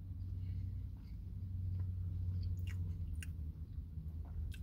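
Crunchy chewing of a fast-food chicken sandwich with bacon and crispy onions, close-up bites and mastication over a steady low rumble, no talk.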